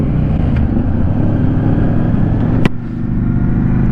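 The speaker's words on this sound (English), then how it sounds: "Give it a good rip. Give it a good rip." A motorcycle fitted with a Vance & Hines exhaust revs loud and close, a dense low rumble held steady throughout with one sharp crack partway.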